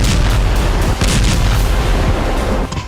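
Artillery explosions in the Russia-Ukraine war: loud, dense, continuous booming blasts that roll into one another with barely a pause, ending with a slight drop.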